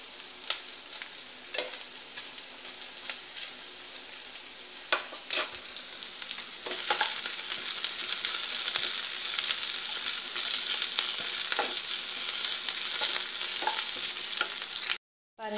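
Onions frying in oil in a pan for a paneer masala gravy, a soft continuous sizzle with occasional scraping and stirring taps, growing slightly louder midway before cutting off abruptly.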